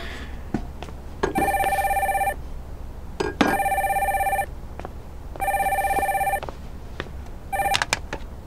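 A telephone bell rings in four repeated bursts of about a second each, separated by short gaps, fairly clear over a quiet room with a few faint knocks between rings.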